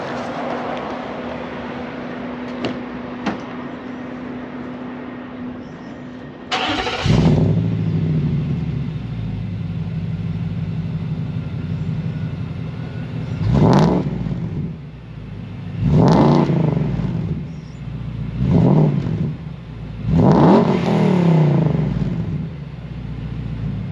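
A Nissan Y62 with headers and a supercharger starts up with a sudden loud burst, then settles into a rumbling idle broken by four sharp, deep exhaust revs in fairly quick succession, close and loud with no talking.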